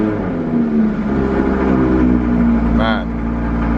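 Bugatti Chiron being cold started with its windows open, a loud, steady engine roar that swells slightly and holds throughout, with a brief rising whine near the end.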